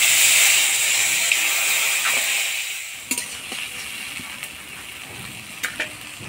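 Spice paste, green chilli, ginger and cumin hit hot oil with a loud sizzle that fades into quieter frying, broken by a few sharp scraping stir clicks.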